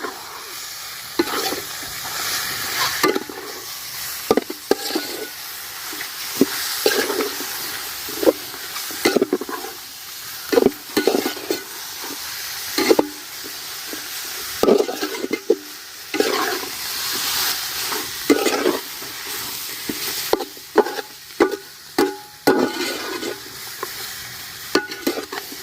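Chicken pieces for a chicken curry are stirred in a sizzling pan, with repeated loud scraping strokes of a spoon at an uneven pace over a continuous frying hiss.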